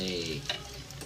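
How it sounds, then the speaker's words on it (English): Food sizzles steadily in hot oil in a home kitchen, a continuous crackling hiss at close range, fairly loud, with no talk over it. "now we want these to fry here for a couple minutes"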